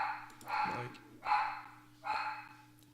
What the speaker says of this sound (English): oh my good lord, those dogs.